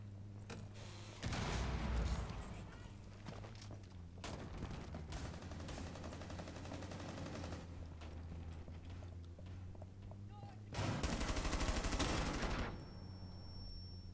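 Gunfire in the tactical shooter Rainbow Six Siege: two loud, dense bursts of shots up close, the first near the start and the second toward the end, with steady game sounds and a constant hum between them.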